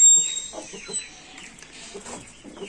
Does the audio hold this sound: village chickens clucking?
yes